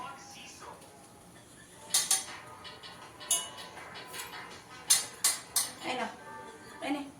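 Plates and dishes clinking in a home kitchen while amla candy is prepared, a series of bright, separate clinks and taps at an irregular pace with people talking quietly in between.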